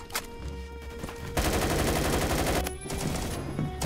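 Rapid gunfire bursts in the Phantom Forces first-person shooter video game, with a short shot, then a loud sustained automatic stream, a brief pause and another burst, all close and dense.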